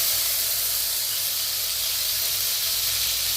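Ginger garlic paste hitting hot oil in a pan, giving a steady, bright, close sizzling hiss that holds evenly throughout with no talk.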